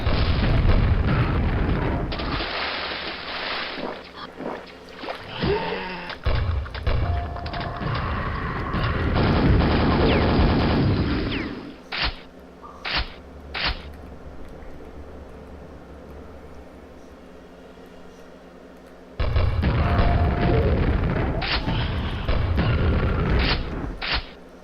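Grenade explosions in the game Quake boom in a dense, heavy barrage during a fight against enemy hordes, followed by a few sharp isolated blasts and mechanical clatter, then another loud burst of explosions at the end.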